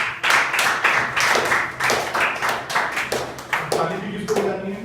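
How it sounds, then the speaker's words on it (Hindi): Students at a school in Azamgarh, Uttar Pradesh clap their hands in a loud burst of rhythmic claps, with voices murmuring underneath. "ताली बजाइए"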